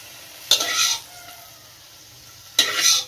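Butter sizzles in a home-cooking pan in two loud, close bursts as food is stirred or dropped in, with a quieter, steady background hiss between them.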